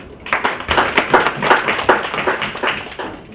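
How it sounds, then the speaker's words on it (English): Energetic applause from a group, with many hands clapping rapidly and densely for a few seconds. "So, another round of applause"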